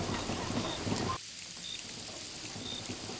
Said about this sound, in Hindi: बारिश लगातार एक सी, हर बूंद पिछली जैसी।